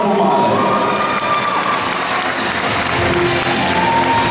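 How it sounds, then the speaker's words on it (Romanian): Crowd at a ballroom dance competition cheering and applauding third-place youth winners, loud continuous shouts and whoops with children's voices over clapping. "Aplauze pentru Diuzii, Rafael și Dan Alexia de la Loca Dance School Satu Mare."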